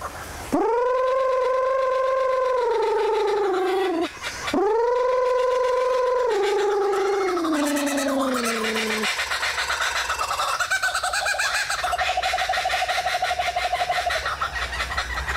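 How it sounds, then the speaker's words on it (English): A nearby laughing kookaburra's loud call: long rising and falling hoots that repeat and break into a rapid, cackling chatter lasting many seconds. "the laughing kookaburras from Australia"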